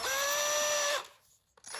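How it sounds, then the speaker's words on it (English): A power drill bores a pilot hole into a wood block for a DIY router plane, a close, steady high motor whine lasting about a second before stopping, followed by faint handling sounds. "So I'm gonna drill a pilot hole first,"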